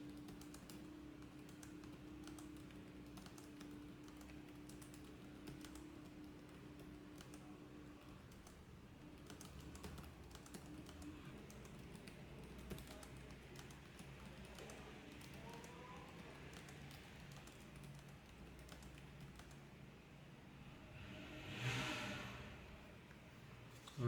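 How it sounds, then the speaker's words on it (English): Faint, steady clicking of typing on a Lenovo ThinkPad E15 Gen 2 laptop keyboard, quiet and continuous, with a brief louder rustle near the end. "let me go ahead and do a quick typing test and see how the keyboard is."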